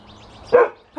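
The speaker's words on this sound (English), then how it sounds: "Why are you barking?" A single short bark from a nearby dog, followed by the start of a second yelp.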